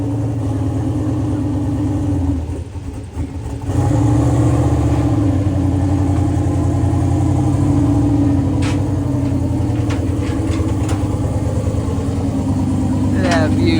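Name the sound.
Ford Mustang engine running after starting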